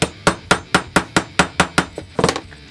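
A pivot pin is tapped out through a G10 knife handle resting over a 1-2-3 block. About nine sharp, evenly spaced hammer blows ring out close and loud, then a quick flurry of lighter taps at the end.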